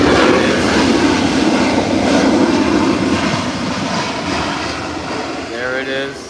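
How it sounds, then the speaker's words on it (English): American Airlines Boeing 737 airliner on the ground, first international departure of the morning out of Miami, giving a steady broad engine roar that stays loud throughout and eases slightly toward the end. "American Airlines Boeing 737."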